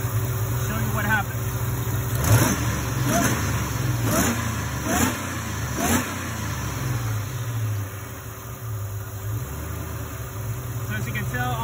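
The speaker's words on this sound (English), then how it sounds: "now I'm going to go ahead and rev the engine up where it creates boost from that boost line" A 2000 Saleen car engine with a boost bypass valve setup revs repeatedly to build boost, several sharp throttle blips over a steady idle, close and fairly loud, then settling back to idle.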